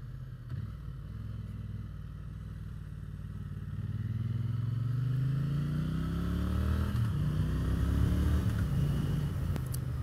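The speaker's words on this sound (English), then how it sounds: "One of my favourite engines in any twin." A 2022 Triumph T100 Bonneville Gold Line Edition twin-cylinder motorcycle riding on a summer evening, its engine droning steadily, then rising in pitch as it accelerates through the gears, close and continuous with no talking.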